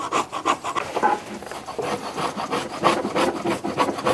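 Material is scraped and rubbed off a car sun visor by hand without a razor blade scraper, a close, steady rasping with rapid back-and-forth strokes that continues for several seconds.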